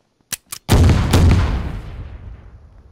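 A demolition charge blasts through a base wall in the video game DayZ, preceded by two short sharp taps, then one loud close boom that rolls into a long, slowly fading rumble.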